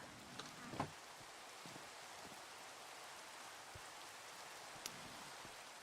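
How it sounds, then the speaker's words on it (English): Steady rain falls in a video game, a soft continuous hiss of drops with a few faint isolated taps, fairly quiet and with no voices. "The rain's so loud"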